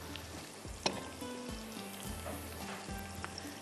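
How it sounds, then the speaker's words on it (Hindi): Onions sizzle in a pan for chicken shahi handi with a soft, continuous fry, broken by a few sharp clinks and scrapes of stirring. It is fairly quiet and close, with no speech. "अब ये थोड़ा सा प्याज का कलर जो है ब्राउन हो रहा है"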